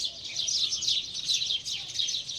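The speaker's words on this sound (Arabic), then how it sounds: "سمعان صوت العصافير" Small birds chirp at a farm among mango and fig trees, their dense high tweeting continuous and fairly close, with no talk over it.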